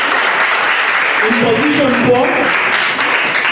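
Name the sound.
audience applause at debate championship results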